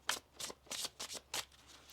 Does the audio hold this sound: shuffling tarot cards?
yes